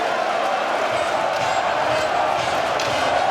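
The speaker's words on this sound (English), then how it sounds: "It looks to be a very popular goal amongst the crowd here. They're very excited." A dense football stadium crowd roars and cheers continuously after a goal at a London Masters indoor match between West Ham and Arsenal, loud and sustained throughout.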